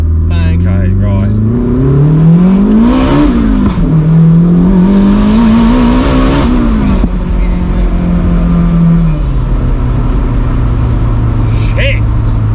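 A 670bhp Toyota MR2 fitted with a turbocharged K20 engine accelerates hard on a Malta street, a loud, close engine roar climbing and dropping through the gears, with occupants talking over it.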